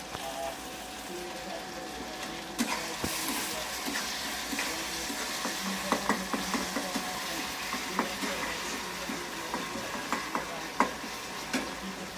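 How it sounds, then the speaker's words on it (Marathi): Curry leaves sizzling in hot oil while making a paratha stuffing, a steady close frying hiss with scattered crackles and occasional stirring clicks throughout. "आता त्याच्यात आपण कढीपत्ता टाकून घेऊ।"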